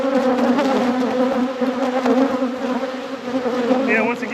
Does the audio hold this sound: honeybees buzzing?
yes